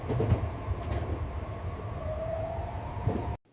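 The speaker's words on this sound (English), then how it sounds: "I enjoy the quiet moments while the train moves through the city." A subway train rumbles steadily through the city with a faint rising whine, then the sound cuts off abruptly.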